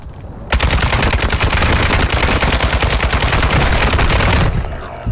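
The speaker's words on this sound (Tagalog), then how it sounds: "Ako may minigun." A minigun in the video game Warzone 2 fires one loud, continuous burst of rapid shots lasting about four seconds, starting abruptly and cutting off cleanly, with nobody talking over it.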